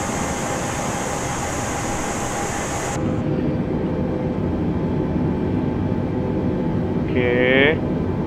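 A Super Air Jet airliner in Microsoft Flight Simulator descends steeply to land on a Jakarta to Yogyakarta flight: a constant engine and wind roar whose tone shifts partway through, with a brief rising chirp near the end.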